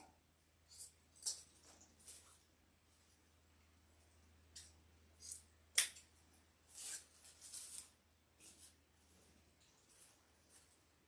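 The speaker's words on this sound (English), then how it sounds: "let's go ahead and cut our dovetail" Scissors snipping a dovetail into the end of a ribbon for an Easter cross wreath bow: a quiet series of short, crisp clicks and snips, some in quick clusters, with no voice.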